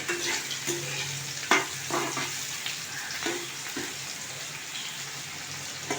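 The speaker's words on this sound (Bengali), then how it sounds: "মশলাটা ভালো করে লাল লাল করে ভেজে নিতে হবে" Spice masala frying in a pan for a vegetarian dal shuktani, a steady broadband sizzle with a few sharp scrapes or stirs and soft taps throughout, fairly close, with no talking.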